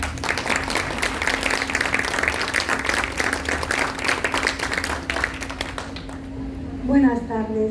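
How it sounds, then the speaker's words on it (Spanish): An audience at a book presentation breaks into strong, dense applause that rolls steadily for several seconds, then fades as a voice begins speaking over the tail end. "La recibimos con un fuerte aplauso."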